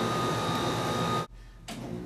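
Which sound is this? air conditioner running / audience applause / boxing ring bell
air conditioner running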